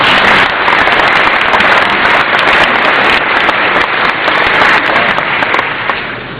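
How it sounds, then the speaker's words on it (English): A graduation crowd breaks into loud, sustained applause, a dense wall of clapping that holds steady and then tapers slightly at the end. "you should give yourself a round of applause"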